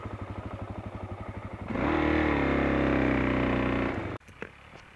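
An enduro motorcycle on a trail in the Corbières hills idles with a rapid, even putter, then roars as it revs hard and holds loud for a couple of seconds before cutting off abruptly into quieter rustling.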